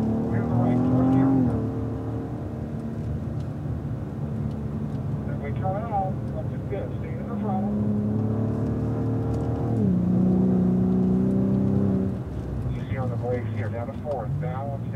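A Cadillac ATS-V engine drones and revs on a race track, its pitch climbing through gears and dropping on shifts, loud and continuous from inside the car, with someone talking over it.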